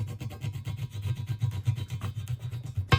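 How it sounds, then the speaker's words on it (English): Tool scraping and rubbing residue out of a cleaned Audi A4 B7 2.0TFSI cylinder head: a steady, close, rapid back-and-forth rasping that runs unbroken and ends in a slightly louder stroke. "now when you scrape it, it should get everything out"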